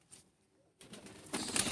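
Pigeons in a loft give off soft, low cooing, faint and sporadic, with a brief rustle near the end.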